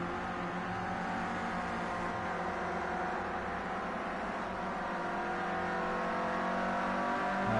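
Clio Cup race cars in a racing game, their engines droning and revving continuously at a steady, fairly loud level, with several cars running together and no pauses throughout.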